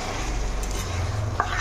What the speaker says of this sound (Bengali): মাংসটাকে একটু কষিয়ে নেব ভালো করে।